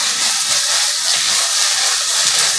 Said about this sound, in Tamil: அந்த இஞ்சி பூண்டு அரைச்சதை போட்டு நல்லா அதையும் சேர்த்து வதக்கிடணும்